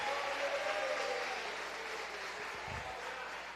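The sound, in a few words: church congregation applauding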